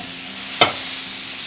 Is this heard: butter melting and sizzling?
yes